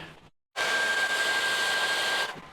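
A heat gun blows a steady, loud hiss of hot air with a faint high whine as it warms vinyl wrap film around the bottom edge of trim on a Fuso FG overland truck. It runs for about two seconds after a brief pause.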